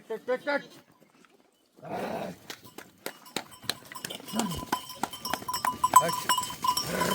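Goats bleat in short bursts among clattering metal and knocking sounds, with a voice talking briefly at the start.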